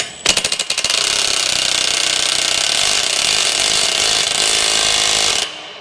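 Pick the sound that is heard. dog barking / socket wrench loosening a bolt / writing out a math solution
socket wrench loosening a bolt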